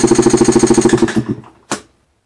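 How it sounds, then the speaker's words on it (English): A new Beta 200RR motorcycle engine cranks on its starter at wide-open throttle for a compression test: rapid, evenly spaced loud chugging pulses for about a second, then they fade out, followed by a single short clunk. "taking the throttle full open and let's crank it"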